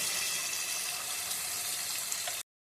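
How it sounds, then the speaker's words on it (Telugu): Steady rushing water pours into masala gravy for a brinjal curry for a couple of seconds, close and fairly loud, then cuts off abruptly. "ఇప్పుడు కొంచెం వాటర్ పోసుకోండి"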